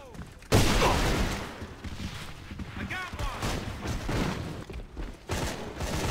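Gunfire and an explosion in a shooter video game: a sudden loud blast, then ongoing rumbling bursts of shots and impacts close by, with a player's voice talking over the action.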